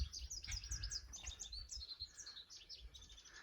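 Songbirds sing and chirp around a backyard bird feeder in spring, with rapid overlapping high tweets and trills throughout, soft and somewhat distant over a low outdoor rumble, with no talk.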